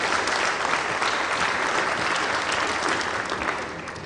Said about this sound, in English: Another round of applause for the Deputy Secretary General.